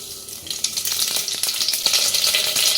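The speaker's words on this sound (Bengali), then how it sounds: "এবার তেলটা গরম হলে তার মধ্যে দেব পাঁচ ফোড়ন" Panch phoron whole spices hit hot oil in a pan, crackling and sizzling loudly and steadily close by with sharp spitting pops, no voices.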